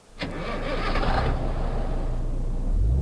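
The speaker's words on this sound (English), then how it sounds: "In the truck, start it up." In Euro Truck Simulator 2, a Peterbilt 351 truck engine cranks and catches, then settles into a steady low idle that holds loud and close, with a brief rise near the end.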